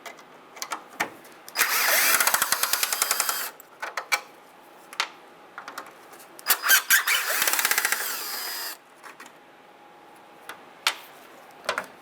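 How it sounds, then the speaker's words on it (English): A power screwdriver backs out Phillips screws from the corner light of a 1996 Ford F-150, with two long whirring runs and a few short bursts of the motor, close up, separated by quiet gaps. "We're going to remove these two top Phillips screws."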